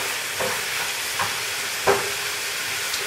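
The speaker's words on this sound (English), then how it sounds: "We're just waiting for that bacon to get a little more rendered." Bacon rendering in a pan for German potato salad, giving a soft, even sizzle with a few faint scraping stirs, and no voices present.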